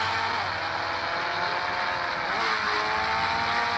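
A toy car runs at speed with a steady, continuous motor whine that rises and dips slightly in pitch, loud and close throughout with no talking.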